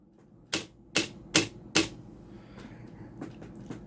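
A $20 thrift store typewriter clacks through four loud, evenly spaced strikes, followed by several lighter, quicker taps, close and crisp.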